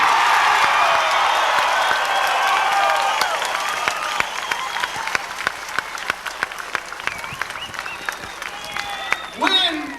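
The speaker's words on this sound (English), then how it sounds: "I've never seen a better, more determined crowd than I see right" A large crowd at a 1989 UMWA coal miners' strike rally applauds and cheers in a dense, loud burst that gradually thins into scattered claps.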